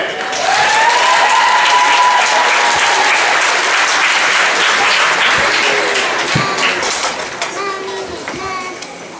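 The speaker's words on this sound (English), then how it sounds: "So let's give a big round of applause" Sustained crowd applause at a university commencement ceremony, loud and dense, with a few cheers and a rising whistle near the start, thinning toward the end.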